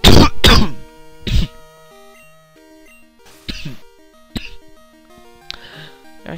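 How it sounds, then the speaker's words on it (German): Harsh throat clearing and coughing from a man with a cold during a Pokémon Kristall play session, several loud close bursts in irregular succession with game music tones running softly between them. "Entschuldigung, ich muss mal kurz husten."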